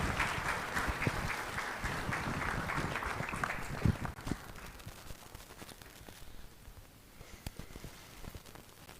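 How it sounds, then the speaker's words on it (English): An audience at a community gathering with India's External Affairs Minister in Jakarta, Indonesia, claps steadily and densely, the applause strongest at first and then gradually thinning and fading out. "please give a big round of applause to the Honorable Minister"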